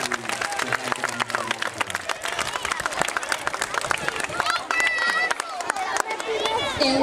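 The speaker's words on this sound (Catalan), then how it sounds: "Un aplaudiment fort per a la flama" A crowd applauds the flame at a Correllengua gathering at CEIP Martinez Vall school in Ontinyent, with lively clapping mixed into busy hubbub, children's voices and talk throughout.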